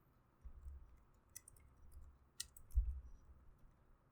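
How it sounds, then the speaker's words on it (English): Scattered clicks and light computer keyboard typing, close and fairly quiet, with irregular keystrokes over a low background hum. "click there and then type out whatever detail you want"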